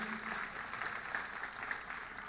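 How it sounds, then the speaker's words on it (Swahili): Audience applause at a live televised event as presenters are introduced, a steady, dense wash of clapping from a crowd that holds evenly through the short stretch without pause. "Tumpigie makofi"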